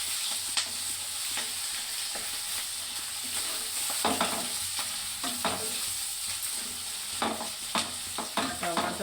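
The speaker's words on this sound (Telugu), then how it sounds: "ఇది కలుపుకుంటాను ఫ్రెండ్స్." A spoon stirs turmeric through curry frying in a pan, with a steady sizzle under irregular scraping strokes against the pan, close and fairly loud.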